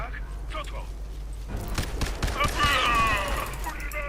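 Gunfire in the first-person shooter Crysis 3 crackles in a rapid cluster of sharp shots partway in, followed by a noisy burst of game effects, with voices in the background.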